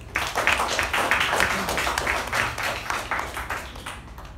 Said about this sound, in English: please help me to welcome Toastmaster Prashant with a thunderous round of applause